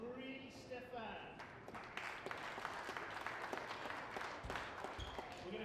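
Spectators clapping at a women's open volleyball quarter-final, a steady, moderately loud round of applause that runs throughout with a voice speaking over it.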